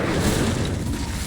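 Incendio, a fire spell cast in the video game Hogwarts Legacy, goes off as a single deep whooshing boom with a roaring burst of flame, loud and close, fading quickly.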